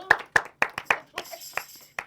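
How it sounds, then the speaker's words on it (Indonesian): Hand claps from a small group at an Indonesian talk show, about eight sharp claps spaced unevenly over two seconds, close and fairly loud, with a bit of chatter. "Tapi boleh tepuk tangan buat Three Things-nya Nada."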